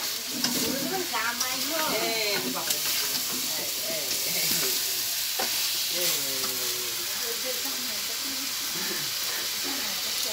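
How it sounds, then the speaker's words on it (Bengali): Braised chicken and fried potatoes sizzle steadily in a pan while being stirred, with a constant frying hiss and a voice talking over it. "কষা মাংস আর আলু একসাথে মিক্সার করব।"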